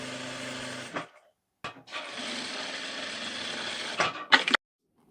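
A sewing machine stitches a folded fabric loop for a designer blouse back neck, in two rattling runs of close, steady stitching separated by a short pause, then a few quick bursts at the end.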